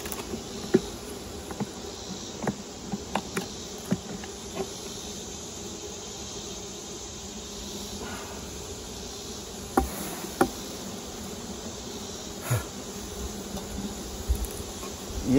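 Honey bees buzz steadily around a small hive as comb is shifted during a fall nectar flow, a dense continuous drone with scattered faint taps and knocks of frames and tools over about fifteen seconds.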